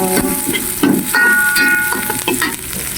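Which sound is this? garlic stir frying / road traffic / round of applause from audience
garlic stir frying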